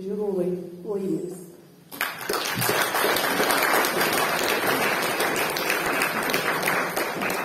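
Audience applause at a humour music show in Petrašiūnai, a steady dense clapping that bursts in after a brief spoken line and carries on loud and even to the end.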